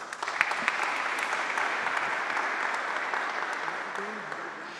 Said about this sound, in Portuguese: Também queremos saudá-lo com uma salva de palmas.